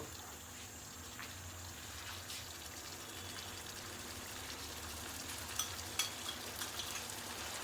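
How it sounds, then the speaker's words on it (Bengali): Green spice paste for green chilli chicken frying in a pan, a steady soft sizzle and crackle heard up close throughout, with a few light clicks of stirring near the end and no voices. "মশলাটা একটু আমরা কষিয়ে নেব।"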